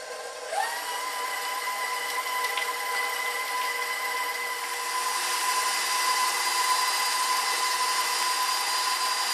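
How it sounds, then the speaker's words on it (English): An electric mixer switches on and whirs steadily at medium speed through cheesecake batter, a loud close motor hum with slight changes as the beaters move. "I'm going to beat this on medium speed for about 5 minutes, and I'm going to scrape down the sides as I go until there's no lumps"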